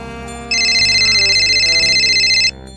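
A phone rings loud and close as an electronic ringtone. A steady two-tone trill plays for about two seconds over quiet background music while a caller waits for the other person to pick up.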